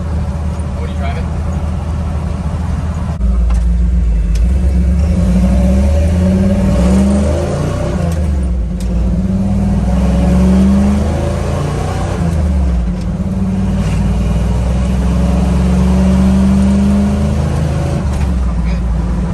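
Throaty custom exhaust on a Bronco rumbling and revving while driving, rising and falling in pitch, heard from inside the cab with people talking over it.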